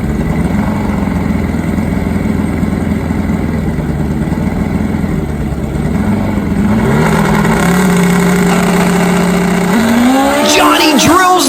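Drag race between a Suzuki Hayabusa and a Kawasaki ZX-14 motorcycle in Maryland, loud engine drone building steadily before a sharp rising rev near the end, with an announcer talking over it.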